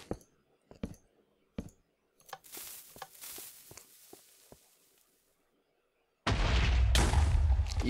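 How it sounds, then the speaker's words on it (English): A Minecraft TNT blast: a run of sharp clicks and pops, a short pause of silence, then a loud, sudden roaring explosion that fills the last second and a half. "I should use TNT more often"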